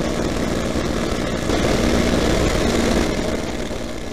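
Propeller engine of a P-51C Mustang in flight, a loud continuous droning roar with a low throbbing hum that swells slightly midway, heard alone without talk.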